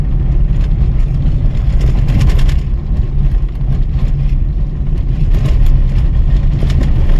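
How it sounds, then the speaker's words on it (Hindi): Moving Tata Tiago car cabin with a steady engine and road drone throughout, overlaid by faint, irregular rattles from the interior plastic panels, with no talking. "गाड़ी में ये पैनल्स की आवाज़ आती रहती है"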